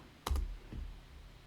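Keystrokes on a computer keyboard typing a command in AutoCAD Civil 3D: a quick close cluster of sharp clicks followed by one softer tap, with no talking.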